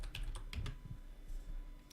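Computer keyboard keys typed while entering JavaScript code with hexadecimal numbers, a quick cluster of close, crisp clicks in the first second followed by a few scattered, softer keystrokes over a quiet room hum.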